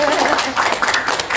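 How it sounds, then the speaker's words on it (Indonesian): Audience applause in a podcast studio, a short, loud burst of many hands clapping in an uneven patter, close to the microphone. "Tepuk tangannya mana?"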